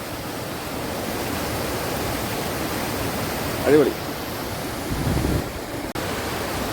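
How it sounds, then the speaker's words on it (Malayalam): A small stream in Chengara, swollen with extra water after rain, flows toward the Periyar river with a steady, close rushing wash that runs through the whole stretch, broken once by a brief spoken exclamation. "ഇവിടുന്ന് ഇങ്ങനെ ഈ വെള്ളം ഒഴുകുന്ന നേരെ പെരിയാറ്റോട്ട് ഒഴുകുന്ന കേട്ടോ"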